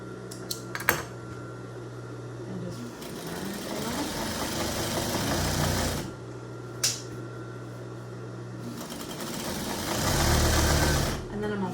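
A home sewing machine runs a half-inch seam along the side of an apron, humming steadily in long stretches with brief stops and a sharp clack in between, while someone talks over it nearby.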